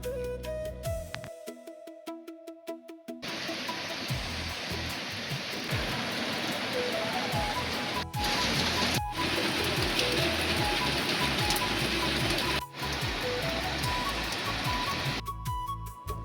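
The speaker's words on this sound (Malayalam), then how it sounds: "നല്ല മഴയാണ്" Heavy rain pours in a steady, dense hiss, close and constant with brief interruptions, and no voices over it.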